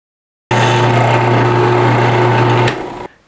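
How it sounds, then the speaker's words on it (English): A power drill with a dull 1/8-inch bit widening a hole in a Springfield Prodigy pistol part, a steady close, loud high-pitched whine running for about two seconds before winding down. "my 1/8 drill bit is a little dull, but maybe I can make this work just to widen the hole just ever so slightly"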